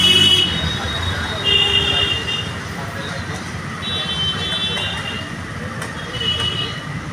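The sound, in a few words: toto (electric rickshaw) passing on the road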